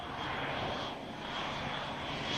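An Air New Zealand Beech 1900D turboprop roars through a steep airshow display turn, its engines loud and steady with a slight swell as it passes.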